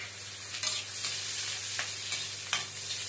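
Onions frying in a pan for a kadhi pakora meal, a steady broadband sizzle with a few sharper crackles and stirring scrapes, close and fairly loud, with no talking.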